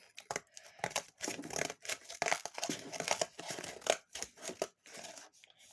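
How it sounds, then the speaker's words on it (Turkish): Close-up paper cutting with scissors: a series of crisp snips and crinkly rustles in irregular bursts, separated by brief pauses, fairly quiet and with no talk. "Şöyle kesiyorum."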